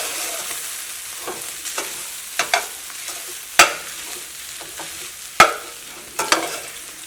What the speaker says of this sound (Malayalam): ഇനി ചോറിലേക്ക് ആവശ്യത്തിന് ഉപ്പ് ചേർക്കാം. ഇതെല്ലാം കൂടിയിട്ട് നന്നായിട്ട് മിക്സ് ചെയ്യാം.